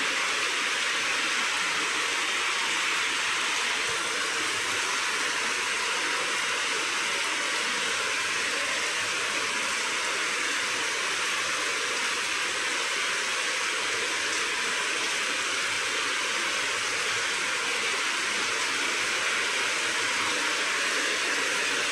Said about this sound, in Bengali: মুষলধারে বৃষ্টি হচ্ছে দেখুন।